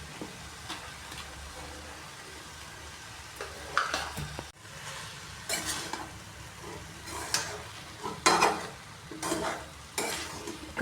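Fried rice being stirred and tossed in a hot pan, with a steady low sizzle broken by repeated scraping and clattering strokes of a spatula at an irregular rhythm, close and moderately quiet.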